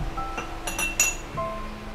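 Drinking glasses clink together in a home, a few light, bright taps scattered across a couple of seconds over a quiet room hum, with no talk.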